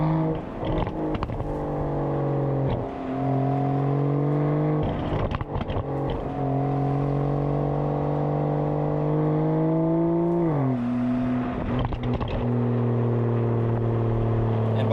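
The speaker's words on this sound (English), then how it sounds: "all the exhaust bark, all the power I can want in Sport Plus mode really makes this car sing" An Aston Martin DBS Superleggera Volante in Sport Plus mode drives with a deep, steady engine and exhaust drone, the pitch climbing under load and dropping briefly at a gear change, heard from close by.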